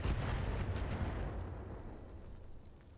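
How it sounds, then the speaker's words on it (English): LRM-10 long-range missiles from a mech in a video game pound an enemy turret, a loud, dense rumbling blast that rolls on and slowly fades over three seconds. "you're gonna blast that turret with your LRM-10"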